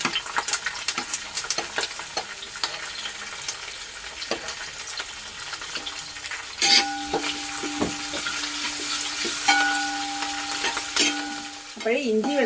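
Crushed ginger and garlic, green chilli and curry leaves sizzle in hot oil, close and busy with crackles and stirring scrapes, plus a brief whistle-like tone near the end.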